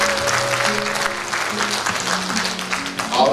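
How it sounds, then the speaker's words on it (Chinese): A Taiwanese audience at an environmental association's formal function applauds steadily, fairly loud and close, while sustained background music tones hum underneath the clapping. "大家鼓掌一下好不好"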